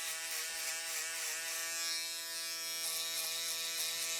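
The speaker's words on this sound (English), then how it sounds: "You can hear that hair being taken from my foil shaver" Foil shaver cutting hair during a skin fade haircut, a steady high electric buzz held close to the head, with a slight shift in pitch as it moves through the hair, no talking.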